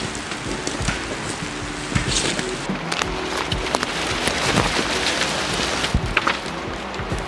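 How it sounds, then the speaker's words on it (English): Steady rain falls in the woods, a continuous dense hiss with scattered louder drips and patters, heard close and fairly loud with no speech. "It's raining pretty badly too"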